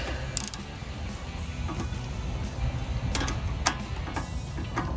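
A half-inch ratchet wrench tightens a brake caliper bracket bolt on a 2012-2014 Dodge Charger, giving rapid close ratcheting clicks with a few sharper metallic taps.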